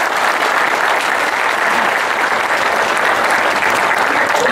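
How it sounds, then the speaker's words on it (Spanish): An indoor audience at a labor-law forum on the right to strike in Mexico claps steadily and loudly, a dense, sustained applause that lasts throughout. "Un aplauso, compañeros, al doctor Néstor de Buen"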